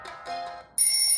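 Ringtone played back on a Redmi phone while adjusting the sound settings: a short, bright electronic chime with sustained tonal notes, starting with softer tones and then a louder, high-pitched ringing burst near the end.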